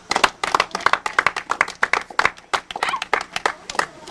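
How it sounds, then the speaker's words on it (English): A small audience claps for the parents at a baseball awards day, a quick, uneven run of close hand claps with some sharper individual slaps, and no talking. "I still think we got to give the parents a hand again."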